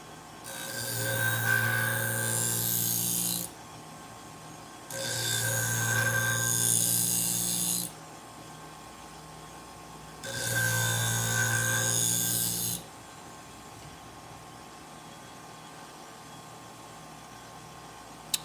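Sewing scissors being sharpened, heard as three long, loud grinding passes of about three seconds each, separated by short pauses with a low mechanical hum underneath and no talking.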